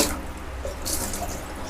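Water poured from a dipper of about 1.5 liters into a container for mixing Wantex fabric dye without boiling, a brief, close, steady splashing gush.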